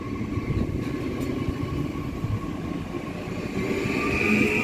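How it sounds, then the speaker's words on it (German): A class 445 Twin Dexx double-deck electric train pulls out of the station at Gemünden am Main, a steady low rolling rumble and hum that builds slightly toward the end, with no talking. "So, jetzt fährt unser 445er Twin Decks hier aus."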